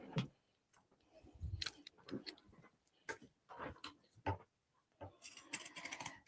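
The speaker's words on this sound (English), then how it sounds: "I'm just going to trim round this seam with my Pinking shears." Pinking shears trimming fabric around a sewn seam on a crossbody bag, a series of sharp, close snips and clicks in an uneven rhythm, with brief pauses between cuts.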